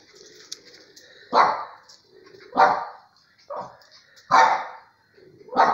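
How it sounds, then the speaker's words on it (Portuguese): A dog barks at a bird outdoors, five loud, evenly spaced barks close by, with soft bird chirps between them. "Aí tá o Bob latindo pro passarinho."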